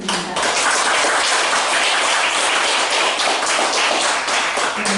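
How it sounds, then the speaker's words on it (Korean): A lecture-hall audience of students and staff at a university peace and unification forum claps loudly and densely, a sustained burst of applause that fills the room without voices. "큰 박수 부탁드립니다."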